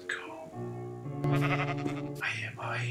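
Sheep bleating in Minecraft, a couple of nasal, wavering bleats rising over one another, fairly close and clear, with faint game ambience around them.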